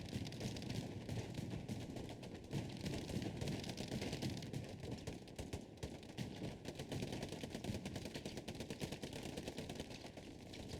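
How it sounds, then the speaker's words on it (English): Machine gun fire in the World War II shooter Hell Let Loose at night, dense rapid bursts of distant and mid-range gunfire overlapping continuously, faint in level with no pause. "Machine gun fire galore."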